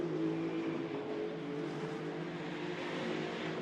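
GT2 race cars running at Hockenheim, a steady engine drone that rises slightly in revs, heard from a distance and fairly faint with no break.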